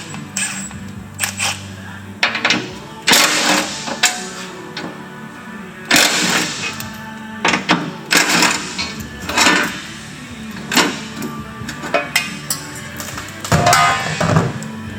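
Ratchet clicks and clanks from removing skid shield bolts with a 15 mm socket under a 2020 Chevrolet Silverado, coming in short, loud, irregular bursts close by with metallic knocks between them.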